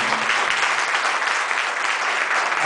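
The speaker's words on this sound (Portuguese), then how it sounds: "Dê um aplauso ao Senhor." A church congregation breaks into sustained hearty applause, a dense steady clatter of many hands filling the room throughout, with no distinct voices on top.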